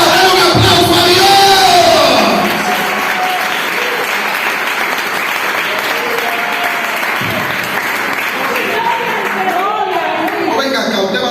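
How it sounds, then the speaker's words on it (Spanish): A church congregation applauds and cheers for God during a service. Loud, dense clapping and shouting swell at the start, then settle into sustained applause and crowd noise that runs to the end. "¡Dale un aplauso a Dios!"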